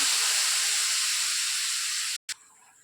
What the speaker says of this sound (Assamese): জোলখিনি উতলি আহিছে।